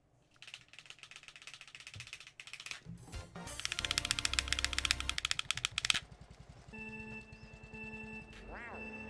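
Rapid plastic clicking from a game controller stick being flicked back and forth during Mario Kart Wii play, a dense rattling burst under talk, followed by a steadier tonal game sound.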